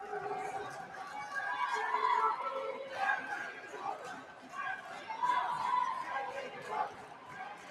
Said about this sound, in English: FEU crowd still active here inside the Blue Eagle gym, trying to cheer their boys on